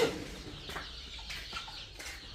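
A month-old free-range village chick, active and feed-raised, clucks a few soft short notes close by against a quiet background, with no talking.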